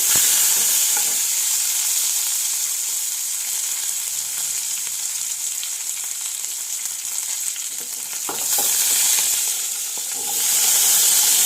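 Mustard seeds, curry leaves, ginger and garlic fry in hot oil, giving a steady, loud sizzling hiss that holds throughout with a brief surge near the end, with no voices.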